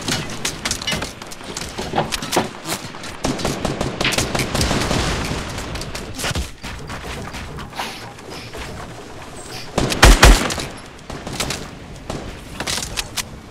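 Gunfire in the video game Fortnite, rapid bursts of shots and mechanical clacks running through the whole stretch, with a louder volley near the end, close and dense.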